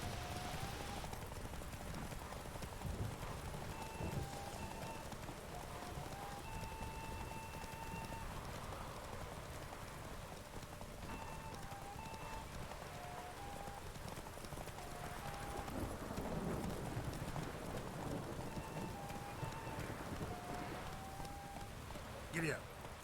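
Horse hooves clip-clopping at a steady gallop through rain in the Witcher 3 game world, a continuous rhythmic beat under patter and game music, with someone talking over it.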